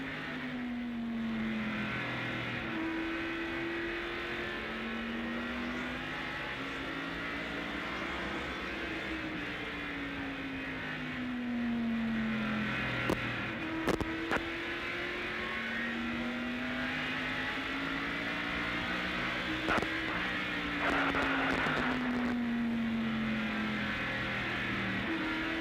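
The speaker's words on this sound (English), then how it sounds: "we'll give you a lap or two with Ken Schrader in the Hardee's race cam" Ken Schrader's 1987 NASCAR Winston Cup stock car at the First Union 400, heard from an in-car camera over a lap. The engine drones loudly and continuously, its pitch rising and falling repeatedly through gear changes and corners, with brief clicks and no talk.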